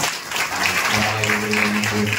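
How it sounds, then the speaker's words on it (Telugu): A church congregation in a Telugu village sermon gathering bursts into applause, a dense, steady roar of many hands clapping together from a crowd, sustained throughout with some voices mixed underneath. "అందరూ చప్పట్లు కొడదాం."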